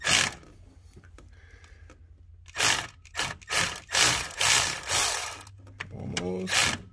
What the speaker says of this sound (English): So we'll get our ratchet back in here.